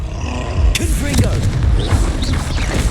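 A Confringo blasting spell bursts in Hogwarts Legacy, a sharp boom followed by a roaring, rumbling blast, with game music and effects continuing under a voice.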